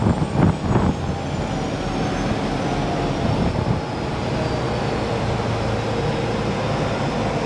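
A 2000 Pursuit 3400 Fisherman boat with a Volvo TAMD 63P diesel comes off plane on the West River, its engine a loud, steady low drone mixed with rushing wind and water, with no voices.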